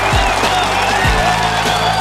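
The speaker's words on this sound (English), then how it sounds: "let's mark a pause with a round of applause" A workshop audience gives a round of applause, a dense wash of clapping and some crowd noise filling the whole two seconds at steady loudness, with a few low thumps near the start and middle.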